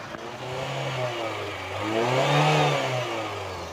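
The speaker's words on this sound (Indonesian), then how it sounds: "kita naikkan RPM pun suaranya masih cukup normal" A 1990 Toyota Starlet EP80 car engine revs up from idle, its pitch climbing and swelling to a peak before easing back down, loud and close.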